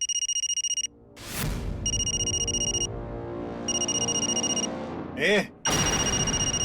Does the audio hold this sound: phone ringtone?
yes